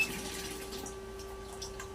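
A coin-operated water vending machine dispenses water in a steady, close trickling stream. A faint electrical whine runs underneath it.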